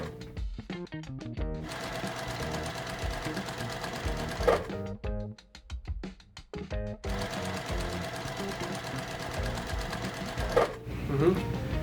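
A sewing machine stitching quilt blocks runs in quick rapid bursts broken by short pauses, close and clear, with a voice speaking briefly between runs.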